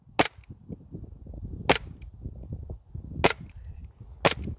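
Four sharp, loud cracks from a cheap blank pistol fired indoors at a bug, spaced about a second apart, with low rumbling handling noise between the shots and no voices.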